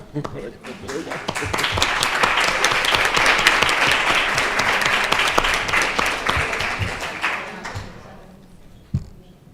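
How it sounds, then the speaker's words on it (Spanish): Sustained audience applause at an astrology tribute talk, dense clapping rising quickly and holding steady before fading out, with a few voices faintly underneath and a single sharp clap near the end. "Vamos a aplaudirla."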